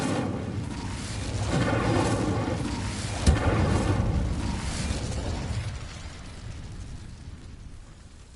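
An Incendio fire spell in Hogwarts Legacy erupts in a roaring, crackling whoosh of flame with a sharp pop in the middle, swelling and then fading away over several seconds without speech.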